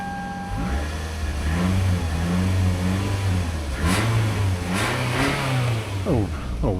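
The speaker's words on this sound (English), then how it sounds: "A little rap in the exhaust, but nothing crazy. Motor sounds good." A 2008 Hyundai Sonata engine revs up and settles several times, with a rough, popping exhaust note throughout and faint voices underneath.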